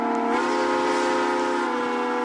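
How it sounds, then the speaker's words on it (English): A train horn in the Roblox game blows a loud, steady chord that holds unbroken throughout, with no voices. "my friend's just playing with a horn"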